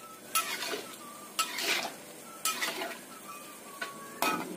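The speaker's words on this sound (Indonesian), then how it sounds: "Kita aduk sampai rata." A spoon stirs chicken soup in a cooking pot, four or five separate scraping, clinking strokes against the metal over a soft simmer, close and fairly quiet, no talk.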